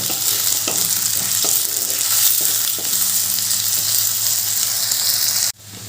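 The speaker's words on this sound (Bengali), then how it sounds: "এবার আলুগুলো একটু ভালো করে পেঁয়াজের সাথে ভেজে দিচ্ছি" Potato pieces frying in hot oil with onions in a pan, a loud continuous sizzle broken by occasional spatula scrapes, cutting off abruptly near the end.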